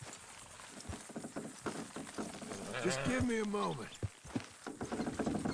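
Horse hooves clop in the video game Red Dead Redemption 2 as a horse-drawn wagon sets off, with irregular hoofbeats and animal snorts mixed under character dialogue.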